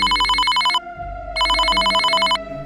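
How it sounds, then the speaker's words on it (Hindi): A telephone rings loudly and close by while a call is being placed, two electronic trilling bursts separated by a short gap. "गुप्ता जी अपना फोन से मिश्रा जी को कॉल लगाते हैं"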